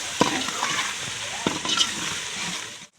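Spoon stirring spiced curry in a hot pan, with a steady sizzle throughout and a few scraping strokes, close and fairly loud, no talk.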